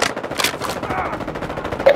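Automatic weapon fire in Call of Duty Modern Warfare 2, quick bursts of shots mixed with game sounds while a player talks over them.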